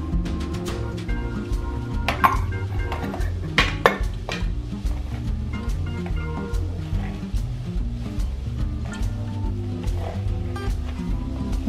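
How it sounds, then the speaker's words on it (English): Chinese cabbage, green onion, cheese and crab meat tossed together in a bowl, with repeated soft scraping and clinking of a utensil against the bowl at a steady, close rhythm and no talk. "I mix it all ingredients"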